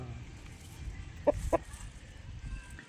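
Rhode Island Red chickens give two short, quick clucks in a row, fairly faint, over a low background hum.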